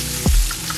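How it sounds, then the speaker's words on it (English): Sliced onion sautéing in a pan, a soft steady sizzle with a brief low thump as the pieces land, close and fairly loud. "I'm going in with my sliced onion. And I'm going to saute those up until they're a little bit translucent"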